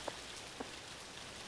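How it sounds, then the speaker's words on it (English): Rain falls in an indie horror video game, a faint, steady hiss with a couple of soft drip-like taps, and no one talks. "it's raining now"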